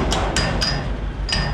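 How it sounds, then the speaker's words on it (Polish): Four sharp, loud metallic hammer strikes ring out at an uneven rhythm as bolts are knocked through on a tipper trailer under construction. "To zaraz je przebiję młotkiem, żeby mi tu nic nie szczelało"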